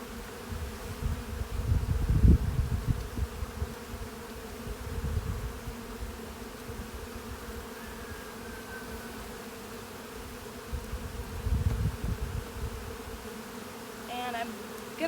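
Honeybees buzz around double nuc hives outdoors, a steady hum of many bees with louder swells as individual bees fly close to the listener, a few faint clicks near the end.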